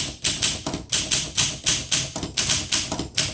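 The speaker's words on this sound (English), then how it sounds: "Okay, let's go ahead and type." Keys strike sharply on a 1958 Olympia SM3 vintage typewriter, about a dozen loud, close clacks in a brisk, steady rhythm with no talking.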